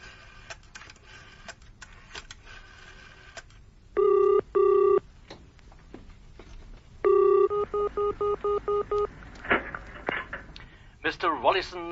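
An old public call-box telephone in a bar: a rapid burst of dialling clicks and tones, then the double-ring burr of the line ringing repeatedly, with people talking around it.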